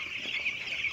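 Broiler chickens in a poultry shed cluck steadily as a dense flock, a continuous close chatter of many birds with no talk over it.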